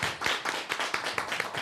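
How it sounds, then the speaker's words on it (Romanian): Scattered hand clapping from an audience applauding a children's folk dance group, a short burst of uneven claps at moderate distance, fairly faint and without voices over it. "copiii de la Bilcuța trebuie și ei să primească aplauze pentru că au dansat"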